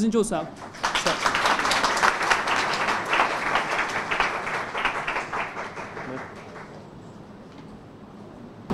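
An audience at a prize distribution ceremony claps in a lively, dense round of applause that gradually fades out toward the end.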